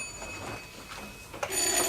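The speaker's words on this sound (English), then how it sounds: "Don't answer that phone." A telephone rings indoors in a house, a short bell-like burst heard near the end after a stretch of quiet room tone.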